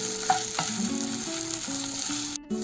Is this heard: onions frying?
yes